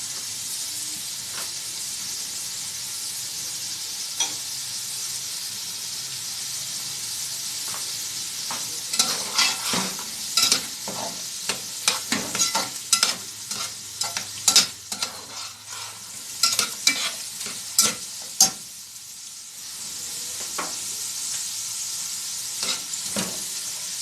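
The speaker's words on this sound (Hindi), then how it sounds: "सबसे पहले हम गाजर को ऐड करेंगे। थोड़ा सा इसको फ्राई करेंगे।" Carrots for a Chinese pulao fry in a hot pan with a steady close sizzle, while a spoon stirs them in quick scraping strokes that clatter loudest midway through.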